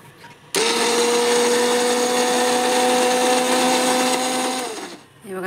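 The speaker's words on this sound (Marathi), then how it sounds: "तर मिक्सरमध्ये मी थोडं दळून घेते. आता थोडं पाणी टाकून दळून घ्यायचं." Mixer grinder grinding soaked wheat with water, a loud steady whirring motor that starts abruptly, runs evenly for about four seconds, then winds down, close and without talk.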